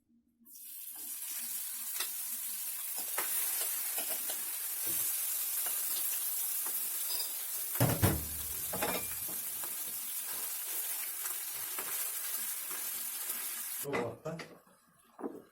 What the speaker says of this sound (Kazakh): майыбыз дагы ызып калды, эми фаршты салалы